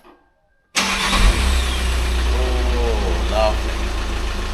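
VW Crafter van engine cranking and catching after a clutch and flywheel job, then settling into a loud steady idle close by, with a brief voice heard over it.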